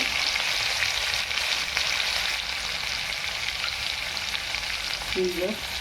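Half a tomato frying in oil for a cauliflower sabzi gives a steady, even sizzle that holds close and constant throughout, with no voices.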